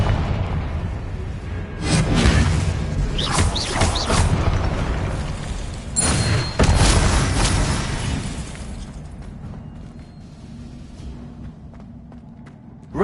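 Confringo spells cast in Hogwarts Legacy go off as several bursting blasts with crackling shatter, two main clusters of loud impacts followed by a fading rumble and quieter ambience.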